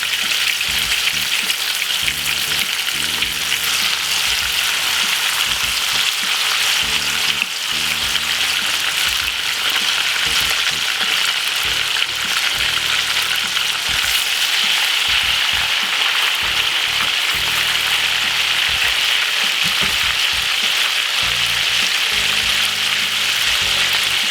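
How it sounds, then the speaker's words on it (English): Fish frying in oil in a pan on the stove for Jamaican fry fish, a loud, dense, continuous crackling sizzle that stays steady and close throughout. "Pop this in it. I want to fry them all up."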